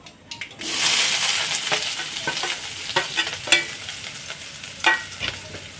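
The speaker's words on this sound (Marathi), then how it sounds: "तेल टाकले, थोडं गरम झालंय। इथे टाकूया थोडे जिरे, टाकूया थोडी मोहरी, कांदा," Onion, green chili, cumin and mustard seeds hit hot oil in a pan, with a steady close sizzle and occasional sharp pops and spoon scrapes as the mixture is stirred.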